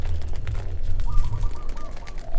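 A caged bird on Koh Samui, Thailand calls in a short series of high, evenly spaced notes over a steady low rumble of background noise.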